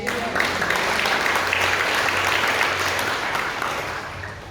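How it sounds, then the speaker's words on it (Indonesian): A church congregation claps together during a sermon, steady dense applause sustained for several seconds before gradually tapering off. "Tepuk tangan Tuhan Yesus."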